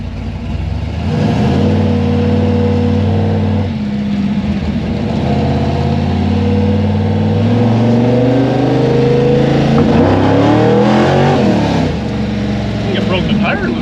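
A 1964 Chevy II gasser with a tunnel ram and dual quads accelerates hard, its loud, close V8 roar climbing in pitch through repeated surges, with a brief lift and renewed revving near the end.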